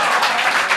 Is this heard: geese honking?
no